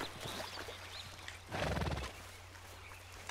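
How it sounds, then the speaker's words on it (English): A horse neighs in Red Dead Redemption 2, a loud whinny rising over soft hoofbeats and ambient game sound, then settling back into quieter clip-clopping. "I think my horse is still following me."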